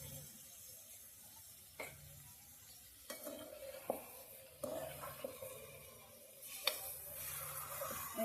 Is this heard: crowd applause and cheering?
no